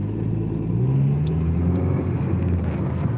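Car interior drive with brake pads freshly fitted at home: a steady, loud low rumble of engine and road noise throughout, a faint rising tone, no voices.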